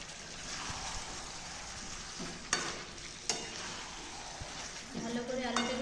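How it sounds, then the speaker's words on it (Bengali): Chicken and potatoes sizzle steadily while being stir-fried for kosha in a pan, with a continuous frying hiss broken by a few sharp spatula scrapes and clinks against the metal. "এখন মাংস কষা চলছে।"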